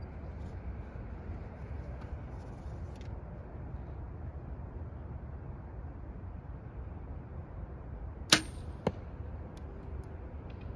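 A whistling arrowhead flies through the air outdoors as a long, faint, airy hiss over steady background noise. A brief sharp crack stands out near the end.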